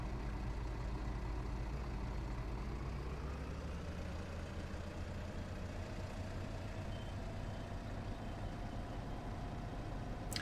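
A tractor engine hauling a strapped load in Farming Simulator 19, a steady low drone running continuously and fairly faint throughout, with no speech.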